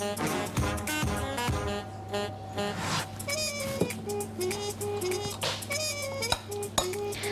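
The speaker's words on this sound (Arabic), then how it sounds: "هنقلب كل المكونات مع بعض" Clinks and scrapes of utensils against a tray while sardines are mixed with lemon juice and sliced onion rings, over a steady background tone of ringing metallic notes.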